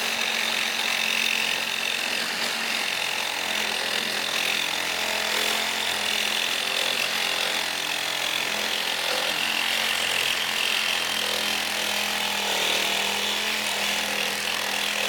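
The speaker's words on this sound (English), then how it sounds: "this is an old steel wrench. Let's see if we can go through there" A RIDGID GEN5X reciprocating saw grinds continuously through an old steel wrench, a dense steady cutting rasp up close with no pauses and no voices.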